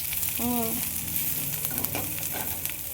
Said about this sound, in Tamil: போட்டு நல்லா வதக்கிக்கணும்.